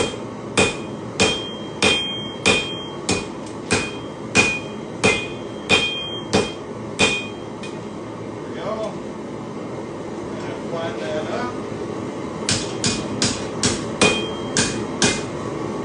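A hammer pounds hot steel at a forge in a steady run of loud, close, ringing strikes. The blows stop for a few seconds, then resume in a quicker burst.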